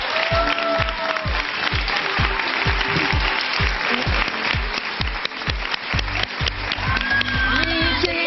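A television talk-show studio audience gives loud applause over rhythmic, pounding music with a steady beat, the clapping blended into the driving accompaniment throughout.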